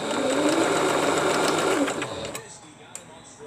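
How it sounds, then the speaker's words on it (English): A sewing machine stitching quilt pieces runs in a fast, steady whirring rattle close by, then stops, leaving quiet room tone with a small click. "I'm going to sew that one down."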